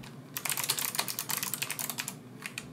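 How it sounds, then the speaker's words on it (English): Typing on a HAVIT 86-key low-profile mechanical tenkeyless keyboard, a close, crisp run of rapid clicking keystrokes in quick bursts with a short pause near the end, heard alone without talk. "The mechanical clicking action is very satisfying"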